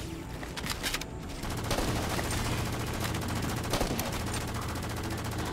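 Machine gun fire in the Halo 4 video game: dense rapid bursts of automatic shots, loud and continuous over a rumbling game soundscape, with no talking.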